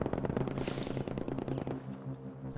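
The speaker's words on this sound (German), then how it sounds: "Aber ich höre Schüsse." Gunfire in the video game Battlefield Firestorm, a rapid automatic burst of shots followed by more scattered reports, moderately loud with no talking.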